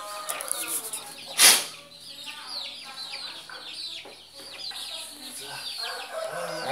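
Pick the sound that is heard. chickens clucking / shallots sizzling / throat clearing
chickens clucking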